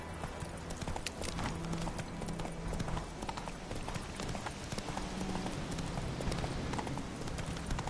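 In the Witcher 3 video game, a horse gallops with rapid, even clip-clop hoofbeats that stay steady and fairly close throughout.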